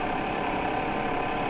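Steady engine hum of a New Holland tractor with a cab, an even mid-pitched drone running continuously without change, fairly close and alone.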